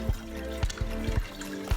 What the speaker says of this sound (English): I'm just gonna take the rest of my brew and pour it in.